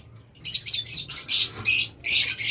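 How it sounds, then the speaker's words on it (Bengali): Lovebirds chirp in rapid, high-pitched bursts, loud and close, with brief pauses between the chattering runs. "এখানে রয়েছে ধামাকা লাভবার্ড"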